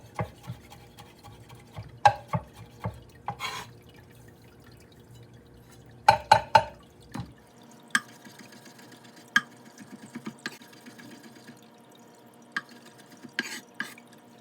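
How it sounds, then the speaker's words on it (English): A knife chopping garlic and rosemary on a cutting board: sparse, irregular sharp taps in small bursts, close and fairly quiet, with short pauses between strokes and no talking. "Right now I'm gonna chop the garlic and the rosemary."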